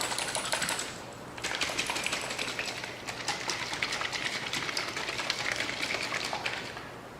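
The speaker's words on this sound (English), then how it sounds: "Take our pre-wax cleaner. You want to make sure it's shaken up really well." A bottle of Turtle Wax pre-wax cleaner is shaken hard, making a dense, rapid rattling and sloshing that runs steadily throughout, close and fairly loud.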